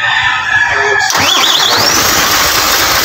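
An overheated car, its cylinder head suspected, is started with a quick cranking catch that rises into a loud, close engine roar with a whining squeal sweeping upward as it revs.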